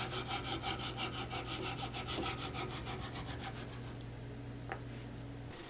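Close, rhythmic hand-sawing through wooden urn and finial workpieces, quick rasping strokes in a steady back-and-forth, stopping near the end with a faint knock afterward.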